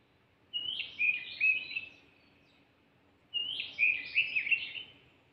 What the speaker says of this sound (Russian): Да, садовая Славка.